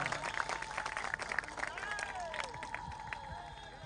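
A crowd applauding an MLA at a public gathering in Uchhabahal, Gourpali, as steady clapping runs throughout beneath loud amplified speech and crowd noise.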